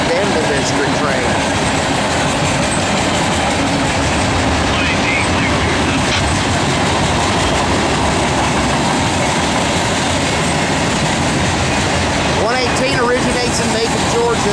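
Norfolk Southern manifest freight train led by SD70 locomotives rolling past on the Piedmont Division, a loud continuous roar of railcars with rhythmic wheel clatter and rumble throughout, close by.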